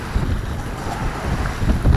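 Gusty wind buffets the microphone in a steady roar, with the wash of open water beneath it and no voices.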